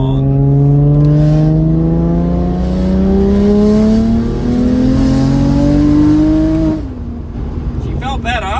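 A tuned car accelerating hard in third gear under boost: a loud engine note climbing steadily in pitch for several seconds, then easing off abruptly into a lower, rougher drone, heard from inside the car.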